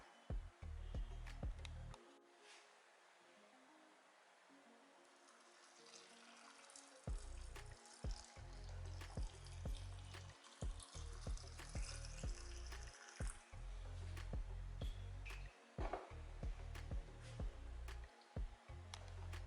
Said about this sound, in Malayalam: ഇനി നമുക്ക് തിളപ്പിച്ച് ആറിയ വെള്ളം ഒഴിച്ചു കൊടുക്കാം